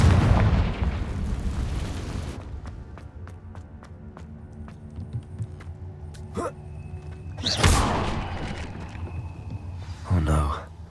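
The Confringo fire spell explodes in Hogwarts Legacy with a loud booming blast that rumbles out, followed by scattered crackles and further thuds and bursts over game ambience, with a voice heard briefly.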